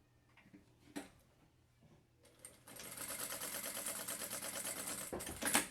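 A sewing machine stitches a seam on a small backpack for children: a few soft handling clicks and taps, then a sustained rapid mechanical whir of the needle running close and steady for several seconds before stopping.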